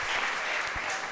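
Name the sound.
church congregation applauding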